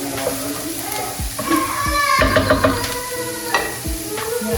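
Minced celery being stirred in a pan for a mushroom paleo pot pie, with a steady sizzle of frying and repeated scraping strokes of the spoon, close and fairly loud, with no talk.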